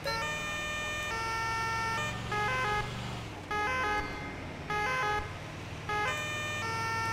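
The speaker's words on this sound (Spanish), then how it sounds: "A pesar del tráfico, el juego decide qué hacer y qué sirena poner." An ambulance siren from an EMS mod driving game sounds steadily over highway traffic, alternating between sustained wailing and faster pulsing tone patterns. The siren is continuous and fairly distant in the mix, with no talking.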